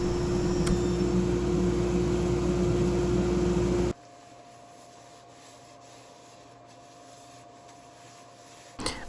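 A buffing wheel charged with white diamond compound polishes a turned wooden bowl on a lathe, a loud steady whirring rub that cuts off abruptly partway through, leaving a quieter motor hum.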